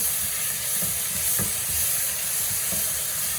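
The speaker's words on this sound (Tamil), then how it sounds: "இதில் வந்து ஒன்றரை கரண்டி போடுங்க போட்டுட்டு வடிவாக எல்லாம் சேர்கிற மாதிரி கிளறுங்கோ" Ground paste being stirred into squid biryani in a pan, a continuous sizzle with soft scraping strokes of a spoon at a few points, no voices.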